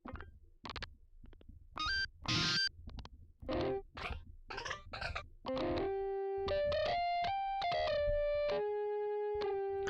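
Distorted synthesizer guitar tones from a Roland MC-101: short, muted, choppy strums at first, then sustained buzzy overdriven notes stepping through a melody, loud and close.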